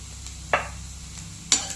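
Masala spice mix being added to a frying pan and stirred, a soft continuous sizzle with two sharp scraping stir strokes, close by, no talking.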